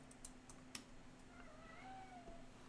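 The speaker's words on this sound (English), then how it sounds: "The cat's making sad noises." An indoor cat lets out a plaintive, drawn-out meow, fairly faint and distant, while computer keyboard typing clicks sporadically in the quiet room.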